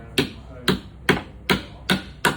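Hammer tapping a spiked leg into the edging of a media wall base unit, six sharp evenly spaced knocks about half a second apart, close and clear.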